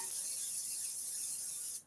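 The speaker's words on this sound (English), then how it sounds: "I'm going to do the cooking spray again" Cooking spray is sprayed onto a hot pan in a steady, close hiss that lasts nearly two seconds and then cuts off. Nobody talks over it.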